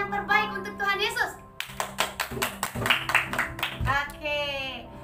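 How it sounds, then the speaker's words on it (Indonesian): Children clapping at a Sunday school worship service, with rhythmic, fairly close claps mixed under children's and adults' voices talking and singing throughout. "Berikan tepuk tangan yang terbaik untuk Tuhan Yesus."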